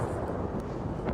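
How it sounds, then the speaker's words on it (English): A big explosion in the video game Destiny 2 during a special destruction event, a sustained low rumbling roar that fills the whole moment at steady loudness, with no speech over it. "There's your big explosion, Kelly."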